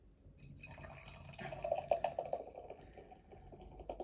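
Golden unfiltered craft beer is poured into a glass, heard as a soft, quiet gurgle and splash that swells in the middle and trails into fizzy dribbles, close and gentle with no talking.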